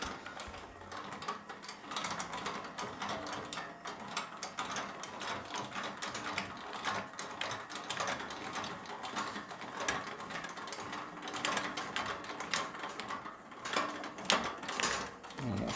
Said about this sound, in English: so right now I'm lowering it to the ground.